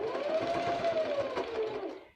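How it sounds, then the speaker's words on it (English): A sewing machine runs steadily, top stitching a quarter-inch seam with back stitching on a fabric tote bag, a continuous close whir that holds for about two seconds before winding down. "I'm just stitching 1/4 inch, top stitching and back stitching"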